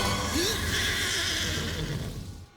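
A horse gives a loud, close whinny with a rising, wavering cry, then a sustained, breathy tail that fades toward the end, heard during the shooting of the 1999 film Sleepy Hollow with a horse and rider.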